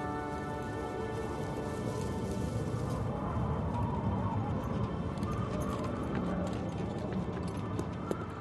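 Horse hooves clip-clopping at a steady walking rhythm, moderately close, over a soft constant background wash, with no talk.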